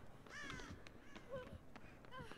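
Crows in the Dead by Daylight video game give several harsh caws in quick, uneven succession, fairly close, with faint background ambience beneath.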